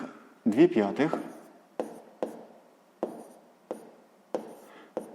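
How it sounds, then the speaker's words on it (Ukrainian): A pen writes on paper during a sixth-grade maths exercise, a run of short scratchy strokes repeating roughly every half second at close range, with a brief voice near the start. "записуємо тоді друга дія"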